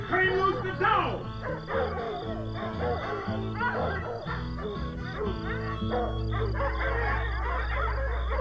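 A dog barks and yips several times, close by, among shouting voices over a loud, steady rumble, as men flee toward a river under gunfire.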